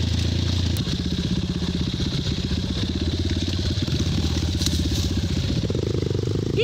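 An off-road motorcycle rides a double-track dirt trail in Hambalang, its engine chugging with a rapid, rough pulsing beat, loud and close throughout, with some rattle and clatter from the bike.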